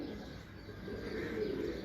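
A female pigeon of a flying breed coos softly and close by in one brief, low, murmuring phrase, with no talk over it.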